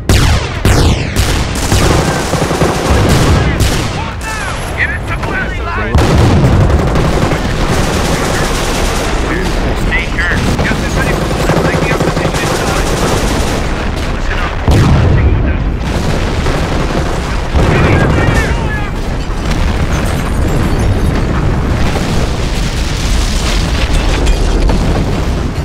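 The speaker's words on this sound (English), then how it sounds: "Concentration. Creeping barrage. Fire!" In the Company of Heroes Blitzkrieg mod, a creeping artillery barrage pounds steadily with dense, overlapping booms and blasts that keep up continuously and loudly, with battlefield gunfire and faint voices mixed underneath.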